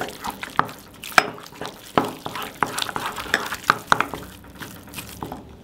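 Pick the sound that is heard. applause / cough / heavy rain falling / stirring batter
stirring batter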